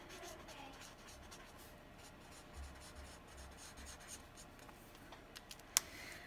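A pen writing in a planner, with faint, close scratching and rubbing strokes and a small tap near the end.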